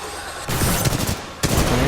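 Rapid bursts of weapon fire from the Titanfall 2 video game, a dense, loud volley after a brief quiet start, pausing for a moment before another burst resumes.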